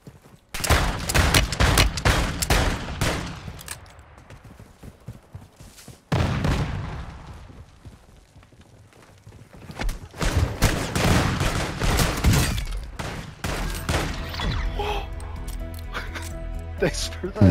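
Gunfire in the Call of Duty Modern Warfare II video game: loud bursts of rapid shots and booms in clusters, easing off briefly, then resuming, with a player's voice talking over parts of it.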